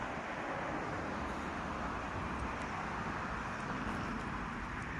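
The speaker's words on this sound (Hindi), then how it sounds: "और बैकग्राउंड में आपको शायद गाड़ियों का आवाज़ आ रहा होगा" Steady road traffic rumble at night during a winter walk, a continuous broadband wash of passing cars with no distinct events, fairly quiet and unbroken throughout.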